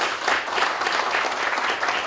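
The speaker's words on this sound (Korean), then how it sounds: "우리 박수 한번 쳐드릴까요?" A church congregation claps for its members at a pastoral installation thanksgiving service, a steady burst of applause from a roomful of people, fairly loud and continuous with no talking.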